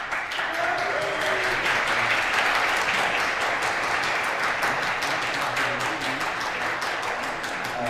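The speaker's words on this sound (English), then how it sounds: "So a huge applause for one of my most favorite sections of ESN Germany for December 2023, ESN Deckendorf" Dense, loud audience applause for a student network section at a national assembly, steady sustained clapping from many hands filling the room throughout, with some voices mixed in.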